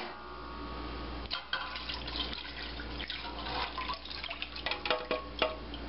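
Water poured into a wide-bottomed roasting pan sitting on high heat, a steady splashing, trickling flow with irregular drips and spatters, close and moderately loud, no talking.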